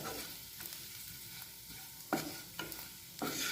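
Soaked, chopped almonds and cashews roasting in a pan, a faint hiss with a few sharp spatula scrapes and stirring knocks, the last ones louder, no talking.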